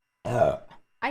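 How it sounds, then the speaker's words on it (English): Single close, loud burp lasting about a third of a second, fading into a short guttural tail before a brief voice starts. "I'm sorry about the burp."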